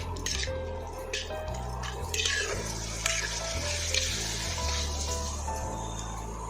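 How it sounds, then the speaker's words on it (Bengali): Spices with garam masala being sautéed and stirred in an oily pan, a steady close sizzle with scraping stir strokes and faint clinks throughout, no voices. "গরম মশলা, দিয়ে এবার এটাকে একটু কষিয়ে নেব"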